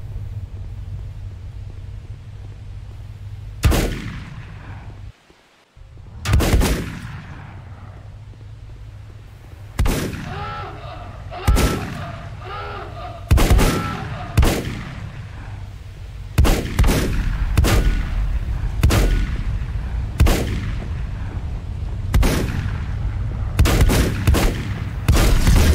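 Enemy gunfire in the video game Volcanoids: a dozen or so sharp, loud shots ring out at irregular intervals over a low rumbling game background, with some bursts coming in quick pairs.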